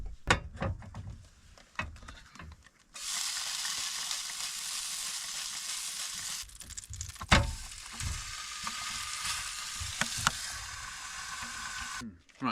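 Burgers frying on a camping stove, a loud, steady hiss that kicks in after a few clatters and carries on with brief knocks before cutting out near the end.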